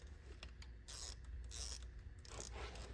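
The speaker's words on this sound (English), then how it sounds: "I'm just going to tighten it with this because my torque wrench is sort of like a ratchet too." A torque wrench ratchets in short clicking bursts while rocker bolts are tightened on a 3.6 Pentastar engine, quiet and close, with brief pauses between the rapid pawl strokes.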